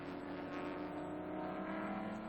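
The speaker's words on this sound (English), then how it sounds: "Now the Porsche leaves the pits." A Porsche race car pulls out of the pits at Watkins Glen during a 2000 Motorola Cup race, its engine a sustained, harmonic whine heard faintly and evenly for a couple of seconds.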